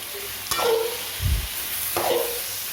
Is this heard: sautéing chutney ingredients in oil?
yes